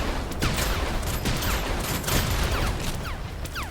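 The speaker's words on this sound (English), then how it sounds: "I can hear my little pew pew turrets going pew pew." Automated turrets firing in the Mars colony game Hostile Mars, a dense, continuous barrage of rapid overlapping shots under a steady roar, loud throughout.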